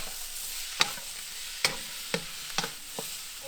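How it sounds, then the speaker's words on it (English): Stir fry with sesame oil, sesame seeds and soy sauce sizzles on a Big Green Egg grill, a steady frying hiss broken by several sharp scrapes and taps of a utensil stirring in the pan. "So it's a very simple stir fry."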